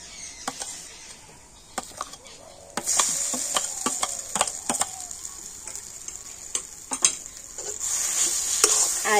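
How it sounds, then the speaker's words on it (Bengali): Chana dal and mashed boiled potato stirred in a kadai, with sharp spoon scrapes and clicks against the metal over a constant low sizzle that grows louder partway through, close and without talk. "আর এবার আমি সমস্ত কিছু একটু ভালো করে কড়াতে নাড়াচাড়া করে নেব"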